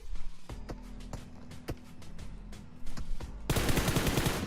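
Suppressed M4 or AKM fire in the mobile game BGMI comes as a string of muffled, rapid shots at moderate volume, ending in a louder, noisier burst.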